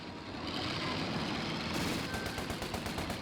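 An MG34 machine gun fires in Company of Heroes 2, heard as a continuous rapid rattle at moderate distance over a low battlefield rumble, with no voices.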